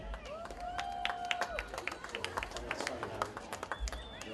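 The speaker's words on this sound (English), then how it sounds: "The crowd goes completely wild." A crowd at a youth soccer event cheers, claps and hoots for the teams, with dense scattered clapping, whistles and excited voices throughout, moderately distant.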